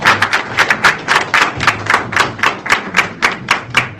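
An audience at the Vibewa Convention 2023 claps in a loud, steady rhythm, roughly four sharp claps per second in unison, continuing without a break and with no talking over it.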